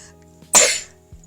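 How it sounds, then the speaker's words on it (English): A single sharp, explosive burst combining a sneeze and a cough from an adult indoors, loud and abrupt, lasting about a quarter second against quiet room noise. "Try to sneeze and cough at the same time"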